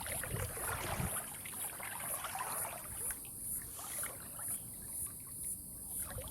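Gentle water movement in a swimming pool, soft sloshing and trickling that swells and fades, quiet and continuous with a faint high tone above.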